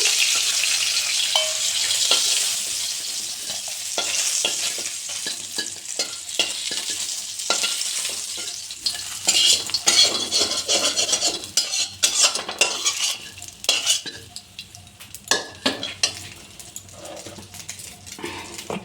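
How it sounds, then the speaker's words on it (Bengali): Shol fish frying in oil in a pan, a loud continuous sizzle with frequent utensil scrapes and clicks throughout. "আর একটু তেল দিয়ে বাকি যেগুলো মাছ আছে সব আমি ছেড়ে দিলাম"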